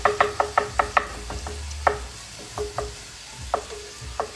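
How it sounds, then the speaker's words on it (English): Ground meat frying in a pan for patties, broken up with a wooden spoon: a run of sharp rhythmic taps and scrapes over a steady close sizzle, with no talking. "I like to use a wooden spoon to break that up well."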